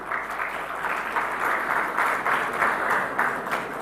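Audience at an India Maritime Week 2025 MOU exchange event in Mumbai breaks into steady, dense applause that holds at an even level throughout, with no talk over it.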